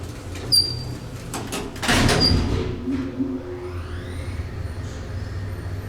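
An old Otis traction elevator starts its descent: a clunk and a surge of mechanical rumble, then a rising whine and squeaky sliding tones as the motor spins up, heard nearby inside the car with no talk.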